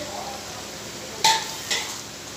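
Potato and rice cutlets fry in hot oil with a soft, even sizzle, and two brief metallic clinks of a utensil stand out.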